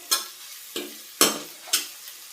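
A spoon stirs spices in a sizzling pan for sabudana khichdi, four distinct scraping strokes at a steady rhythm over a faint background fry.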